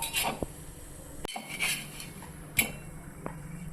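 A lid comes off a pan on the stove where a sorghum-flour crepe is cooking, giving a few light metallic clinks and taps, one sharp clatter and softer knocks, quiet and close.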